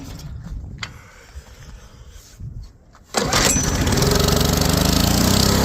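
An old generator cranks a few times in extreme cold, its engine sputtering, then catches at about three seconds and settles into a loud, steady running roar up close, with no talk over it.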